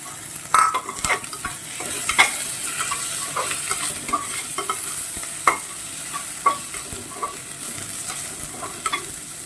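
Onions sauté with mint in a pan over low heat for aloo biryani: a soft ongoing sizzle with repeated close scraping stirs of a spoon against the pan, and no talking.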